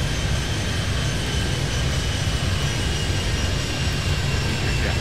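A jet airliner roars steadily as it takes off from a runway at Miami in the airport game Airport Madness 3D, a loud continuous engine rush with no talking over it.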